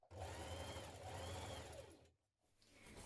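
A sewing machine stitches a waistband seam on trousers in a continuous close whirring hum with rising and falling speed, stops briefly, then starts again.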